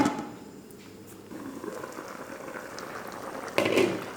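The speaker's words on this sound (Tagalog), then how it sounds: "Pinakuluan ko lang muna yan ng 10 minutes." Chicken gizzard simmering in a covered pot with water, a soft continuous bubbling hiss that stays low and steady, with a slightly louder burst of bubbling near the end.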